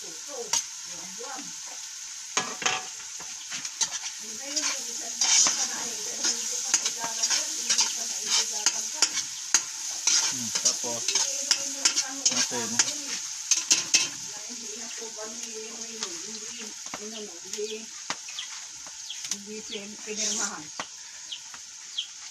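Garlic sautéing in a pan for Filipino chicken sopas, a constant hissing sizzle with stirring clinks, while a voice talks intermittently over it.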